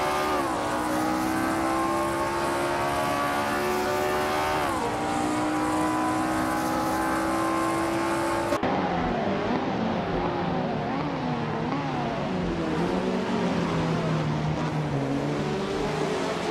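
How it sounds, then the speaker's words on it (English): Race cars in a racing video game engine sounds, loud continuous high-revving engine whines with pitch sweeps as cars overtake and shift, one abrupt cut midway, no talk. "Sunbird Boy advances to 7th place after overtaking 3 cars"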